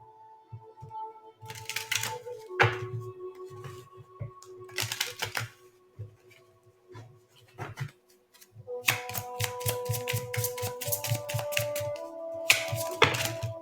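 A deck of cards is shuffled close up in bursts of sharp, rapid riffling clicks separated by brief pauses, with the flurries growing denser toward the end.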